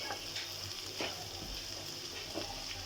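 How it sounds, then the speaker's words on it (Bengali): Vegetables frying in a pan with steady sizzling and occasional scrapes of stirring, close and continuous throughout. "এখন আমি সবজিগুলো ভালো করে ভেজে নেব।"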